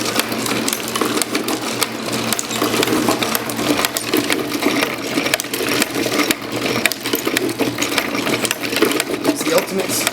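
A dense, fast mechanical clatter of a clockwork mechanism's hammer striking over and over in a clock workshop, continuous and loud, with faint voices in the background.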